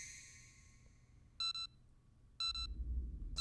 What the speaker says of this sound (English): The bomb also has been fitted with a countdown timer.